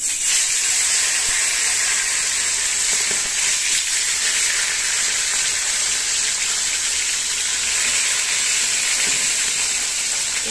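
Tilapia fish frying in hot mustard oil in a kadai, a loud, steady, close sizzling hiss that runs unbroken throughout with no speech.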